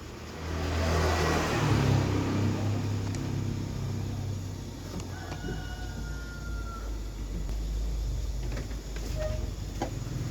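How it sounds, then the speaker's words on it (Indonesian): A car approaches on a road, its engine rising loud and close in the first seconds, then a steady motor hum continues with faint whirs beneath. "Datang mau mobil bok."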